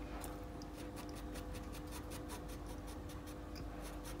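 Pastel pencil laying down tone on paper while drawing a spaniel puppy, a very quiet, steady scratchy rubbing made of rapid short strokes in an even rhythm, close and alone.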